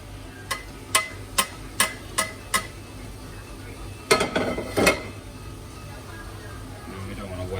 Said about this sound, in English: Put this all through the sieve.